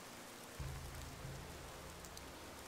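Steady hiss of rain falling in the Gothic 2 video game, a continuous soft wash with a low hum underneath, no voices.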